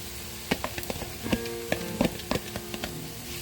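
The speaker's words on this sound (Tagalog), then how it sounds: "hayaan muna natin maluto yung ating beef at mag-brown siya" Ground beef with onion frying in a pan, a soft steady sizzle broken by scattered taps and stirring clinks, close and moderately quiet, with no voices.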